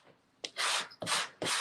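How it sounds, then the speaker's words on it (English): A sanding block scrubs hard across a painted wooden frame to distress it, a short stroke followed by three long, loud rasping passes in quick succession, close up with no talking. "I'm going to just really go to town with my sanding block"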